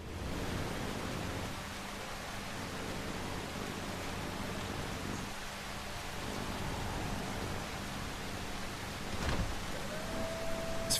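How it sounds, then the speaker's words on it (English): Rain and stormy weather in the game Solarpunk, a steady soft hiss of falling rain that runs the whole time with a brief sharp crackle near the end. "A little rain, little sleet, little snow."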